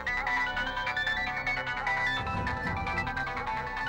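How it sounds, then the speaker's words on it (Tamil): A mobile phone ringtone plays a repeating melodic tune, steady and fairly loud, lying nearby in a room, with no talking over it. "நம்ம போன் சத்தம் மாதிரி கேக்குது"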